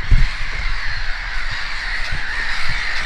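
Seagulls call loudly outdoors in Russia, with harsh, raucous cries repeating over a steady, noisy background, and no talking.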